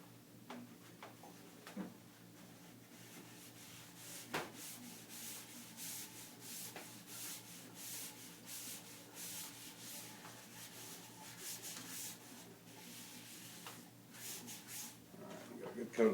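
Triple E wax is rubbed onto wood during sanding, a faint, steady scratchy friction close by, with quiet speech and small knocks in the background.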